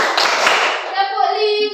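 A classroom clapping game in a maths lesson: a short burst of group hand claps from students, then a teacher's voice speaking alone.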